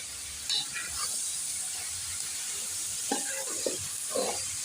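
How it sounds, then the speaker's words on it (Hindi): Potatoes fry in a pan, giving a steady close sizzle and hiss with a few scraping stirs and clinks over the bubbling. "थोड़ा सा मैंने आलू भी बीच में फ्राई कर दें,"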